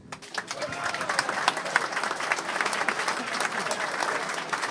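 Audience applause at an outdoor protest in Slovenia against bears, wolves and the minister, many hands clapping in a sustained, moderately loud burst with crisp individual claps standing out and faint voices mixed in.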